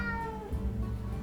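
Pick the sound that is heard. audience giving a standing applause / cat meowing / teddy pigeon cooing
cat meowing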